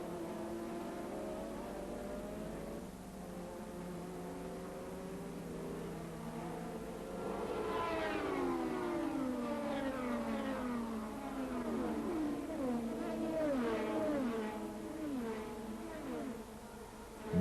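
Formula 1 race cars at the 1984 South African Grand Prix whine past, their engine notes rising and falling in sweeping pitch changes that grow louder midway, with a voice talking faintly underneath.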